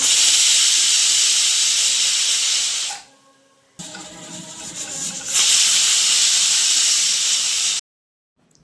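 A household pressure cooker hisses loud, steady steam while rice cooks, the broad hiss broken by a short pause near the middle and cutting off abruptly at the end.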